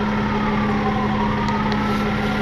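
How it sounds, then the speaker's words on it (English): An emergency vehicle siren wails steadily, loud and sustained throughout, with an engine rumble beneath it and no voices. "The sound of sirens."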